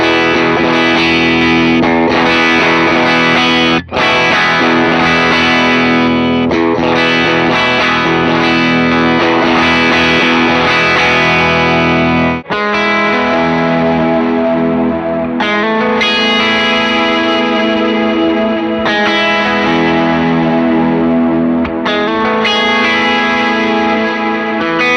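Electric guitar played through an overdrive pedal set to low gain, with chorus and echo effects on the board, giving loud, sustained chords and lines that ring continuously with brief gaps and no talk.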